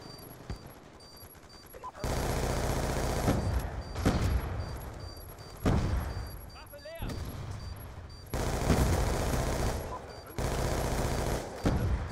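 Bursts of rapid automatic gunfire from an enemy Hailstorm turret in Call of Duty: Black Ops 2, loud and close, coming in several long volleys separated by brief quieter gaps.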